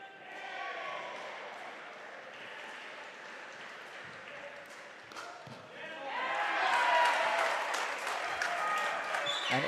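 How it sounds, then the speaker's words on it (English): Crowd at a pickleball showcourt match in Melbourne claps and cheers, with scattered applause and paddle pops at first, then a louder burst of cheering and clapping swelling near the end. "every time the Mavs get a point, you can just hear the crowd get more and more into this game"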